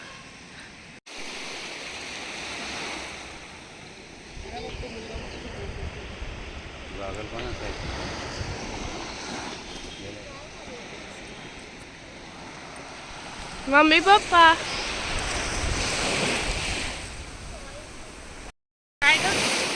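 Sea waves wash steadily onto a beach at Alibaug, a broad rushing surf sound with wind buffeting the microphone, while a family talks and calls out over it.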